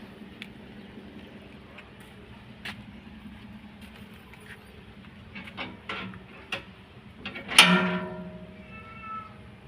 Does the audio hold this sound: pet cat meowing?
yes